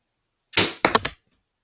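A Daisy BB gun firing a customized wooden bullet gives a sharp, close snap followed by a quick rattling clatter of several short pops, then silence.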